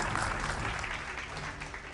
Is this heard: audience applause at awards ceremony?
yes